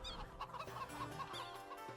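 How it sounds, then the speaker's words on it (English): Chickens cluck in the Age of Empires II video game, a short burst of repeated close clucks and squawks over a soft background hum. "these are the new chickens"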